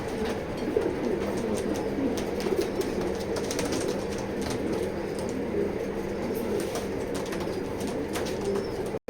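Pigeons coo low and steady inside a pigeon loft. Occasional wing flaps and scuffles break in over a constant busy background murmur, with no voices.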